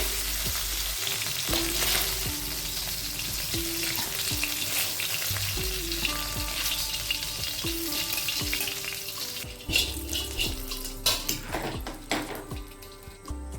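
Chicken pieces frying in a pan for mixed fried rice, a strong continuous sizzle broken by frequent spatula scrapes and metallic clinks against the pan, with no voices.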